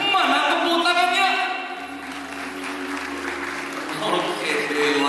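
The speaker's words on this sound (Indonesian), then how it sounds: "Mana tepuk tangannya?" Wedding guests applaud in a reception hall, a steady wash of clapping that swells, dips slightly in the middle, then rises again, with speech over it.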